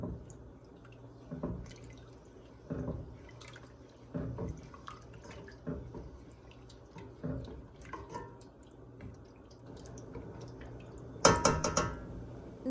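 Water drips and splashes into a pot of sambar with repeated stirring scrapes at a steady rhythm, ending in a louder burst of pouring water.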